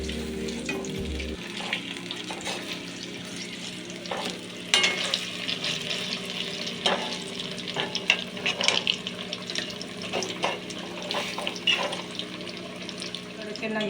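Kerala-style palampuri banana fritters fry in hot oil, a steady close sizzle with scattered scrapes and clatters as the pieces are turned, the sound busy and uneven, and no one speaks.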